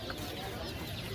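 Chickens cluck at a busy outdoor market in Chennai, short clucks heard amid dense crowd noise and background chatter.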